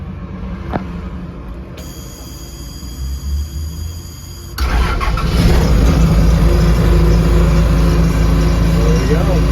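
A 1993 Ottawa Commando 30-yard spotter truck engine cranking and catching, a sharp starter whine giving way to a loud, rumbling diesel idle that settles into a heavy steady drone.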